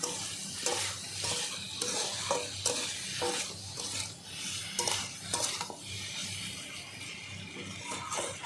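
Fish curry cooking with turmeric and salt in a pan, with steady stirring scrapes and soft sizzling plus occasional utensil clinks against the metal, close and continuous with no talk.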